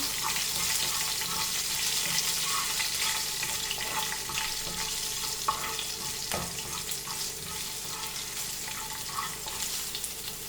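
Sabudana (tapioca pearls) frying in a pan, a steady close sizzle with scattered crackles and occasional stirring scrapes, continuous throughout with no talk.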